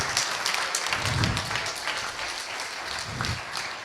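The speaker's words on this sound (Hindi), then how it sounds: "तालियां खूब बजनी चाहिए" An audience at a skill development project launch ceremony applauds with a dense, steady wash of clapping, continuing evenly throughout with no talk.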